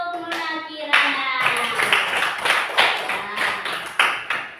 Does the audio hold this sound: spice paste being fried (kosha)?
no